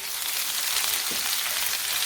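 Oil sizzles and crackles steadily as chilies and spices fry into a tempering for sarson ka saag, a close, continuous hiss with small pops and no talking.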